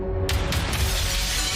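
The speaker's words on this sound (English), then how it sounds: "him smashing a window" A window is smashed with a sudden loud shattering crash, then glass rattles and scatters in a few quick bursts that die into a noisy tail.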